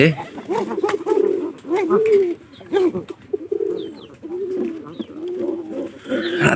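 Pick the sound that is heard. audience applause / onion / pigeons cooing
pigeons cooing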